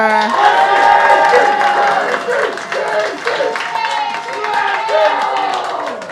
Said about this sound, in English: And clap it up right now if we're feeling Casey Rocker